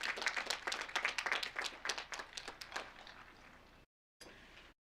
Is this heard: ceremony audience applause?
yes